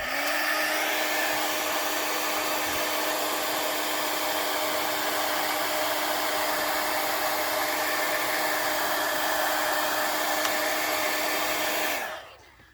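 A hair dryer runs loud and close with a steady, constant whine as it dries a junk journal page, then switches off near the end.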